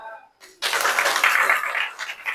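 An audience at a workplace safety talk on working at height bursts into clapping after a brief quiet moment, a full, busy patter that holds steady to the end.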